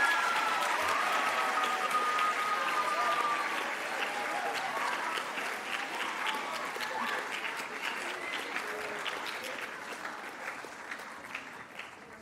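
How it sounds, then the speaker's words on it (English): Audience applause fills the hall at an 8th grade arts school promotion ceremony, sustained clapping from a large crowd that slowly thins and softens toward the end. "please face the audience for a round of applause"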